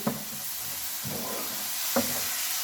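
Vermicelli cooking with milk in a pan on the stove, a soft continuous sizzle and hiss with a few sharp scraping strokes of the spoon as it is mixed quickly.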